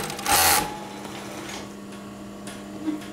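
A Pegasus 516 six-thread overlock sewing machine runs a quick, close burst of stitching, then drops to a quiet idle hum with faint ticking.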